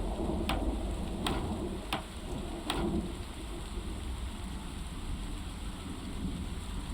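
Steady rain pours down during a storm in the Project Zomboid zombie survival game, with four sharp thunder cracks in quick succession early on, then a continuous hiss of rainfall and low rumble.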